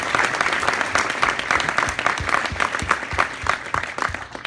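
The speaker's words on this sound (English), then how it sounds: "How about a round of applause for" Applause from a live audience for musicians and dancers at a Nova Scotia music hall of fame induction, sustained dense clapping across the whole stretch, loud and even.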